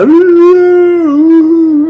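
Islamic call to prayer over a loudspeaker: a single sustained, wavering chanted voice, loud and close, with a steady drawn-out pitch and no other sounds.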